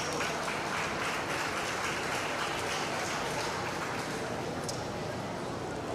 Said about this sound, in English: Let's give all these bucket calf exhibitors a big round of applause.